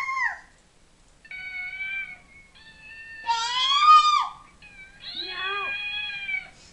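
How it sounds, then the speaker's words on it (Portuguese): A cat meows several times, with clear, distinct meows that vary in pitch and length, some short and some stretched into a wavering cry, close and fairly loud. "Como é que o gato faz?"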